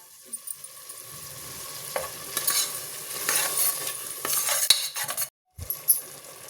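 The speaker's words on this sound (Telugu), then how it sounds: "ఇదంతా ఇప్పుడు బాగా ఫ్రై చేసుకుందాం" A spoon scrapes and stirs masala in a pan while it fries softly, with irregular clinks and a brief silent gap near the end.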